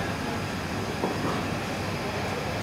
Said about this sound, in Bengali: এই যো ডিব্রুগড় রাজধানী ছেড়ে দিল